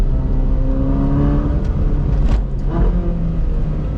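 A Ferrari 458 Spider engine roars loudly nearby, its pitch climbing as it accelerates, broken by a few quick, sharp gear shifts.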